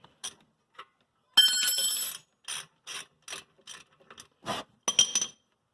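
A 17 mm wrench working a brake caliper bolt on a Toyota Sienna, quick ratcheting clicks in short separate bursts with pauses between them, close and crisp against silence.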